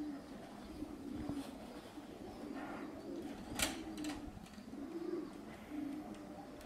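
Racing pigeons arriving at a loft after a race flight, with soft repeated cooing and scattered chirps against a quiet outdoor background, faint and steady, without talk.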